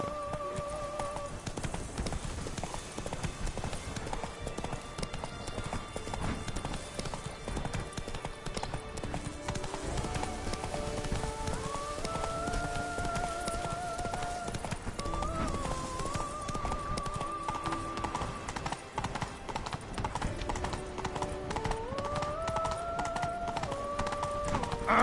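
Roach, a horse in The Witcher 3: Blood and Wine, gallops in a steady rapid hoofbeat rhythm throughout, set under a continuous tonal musical score that stays prominent, with a possible brief whinny.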